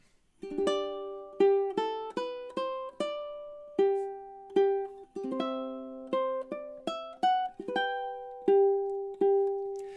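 Solo ukulele picks the opening four bars of Minuet in G, a close, moderately soft melody of plucked nylon-string notes with chords under some beats, each note decaying quickly, no voices.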